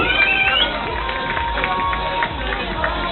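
Spectators at a youth triathlon finish in Saint-Jean-de-Monts clap and cheer as a mix of crowd noise, with an announcer talking over the scattered applause.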